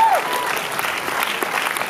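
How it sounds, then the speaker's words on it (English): An audience at the World Bachata Festival 2018 claps in a dense, sustained wash of applause for a dance crew, loud and steady with crowd noise and a voice over it. "Come on guys, give a hand."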